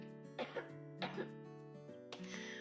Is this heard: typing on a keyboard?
no